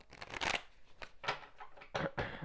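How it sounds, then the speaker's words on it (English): Close riffling and snapping of playing cards being shuffled, several quick bursts of flicking cards in a row. "let's go ahead and get a real big shuffle in with these cards"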